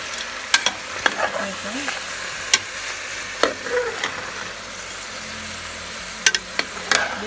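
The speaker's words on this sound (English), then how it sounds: "I'm just going to stir everything" A utensil stirs frozen vegetables frying in oil in a pot for seasoned ackee and saltfish rice, with scattered scraping knocks against the pot over a soft sizzle; a voice speaks briefly.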